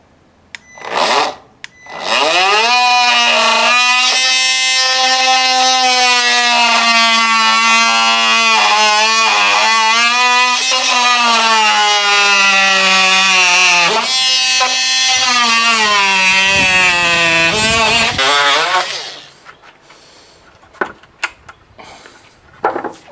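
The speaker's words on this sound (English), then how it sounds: "instead of using a jigsaw here, we're just using the multi-tool. And we'll just notch these out." A Ryobi multi-tool cuts notches into a corner post while a shed is built, a loud, steady high-pitched buzz that holds for about seventeen seconds, its pitch wavering slightly as the blade bites, then stops abruptly.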